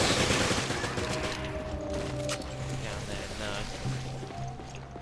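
Machine gun fire rattles in Resident Evil Revelations Raid Mode on a ship deck, a loud dense burst at the start that thins into scattered shots and mechanical game noise.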